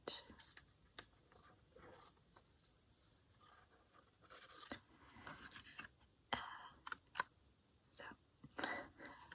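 A stylus scratches across a small Etch-a-Sketch in close, intermittent strokes of varying length, with quiet whispered talk between them.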